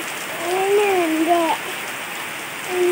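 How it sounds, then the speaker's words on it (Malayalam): Heavy rain pours steadily onto a yard, a close, dense hiss of drops hitting wet ground, with a faint voice-like tone rising over it briefly. "ഇതൊക്കെ നല്ല മഴയാണ്"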